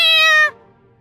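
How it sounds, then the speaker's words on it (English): A single sharp, loud meow from an angry house cat in a survival video game, harmonic and brief, cutting off abruptly into quiet. "it turned out to be an angry house cat"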